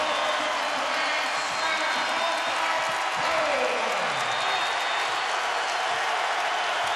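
A home basketball crowd at a Pitt Panthers at Tennessee Volunteers game roars and cheers after a dunk, a broad steady crowd noise with a commentator talking over it.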